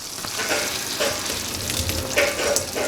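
A pan of browned ground meat for Tex-Mex enchiladas sizzles softly and steadily while the fat is drained off, with faint liquid sounds and light scraping close by.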